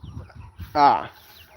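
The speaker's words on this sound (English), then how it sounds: "These two chickens here had 8 chicks." A chicken clucks once, a short, loud, close call over quiet background rustling, with soft talk around it in a farmyard where hens are raising chicks in a mobile chicken tractor.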